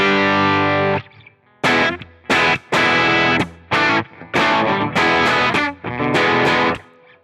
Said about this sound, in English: And then my favorite distortion is this clone,